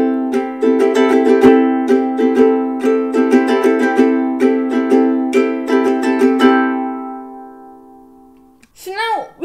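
Steady rhythmic ukulele strumming of a song, quick down-and-up strokes in a down, down, up pattern repeating for several seconds, then ringing out before a brief voice at the end.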